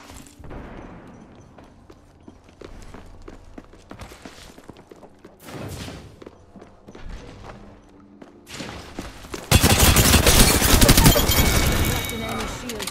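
Bursts of gunfire in Apex Legends, scattered shots and thuds early, then a loud sustained rapid fusillade near the end, with game voice lines over the action.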